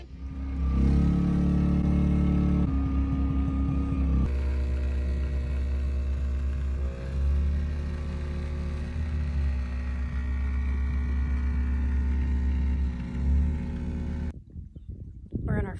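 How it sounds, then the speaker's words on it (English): A small outboard motor on a cabin cruiser hums steadily at close range, with a low drone and harmonic whine running for most of the stretch before cutting off abruptly near the end, while voices talk over it. "a little motor running"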